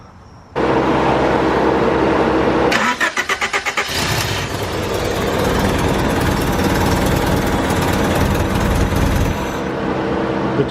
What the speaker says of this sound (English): We're gonna change the spark plugs and then crank her up, see if she starts.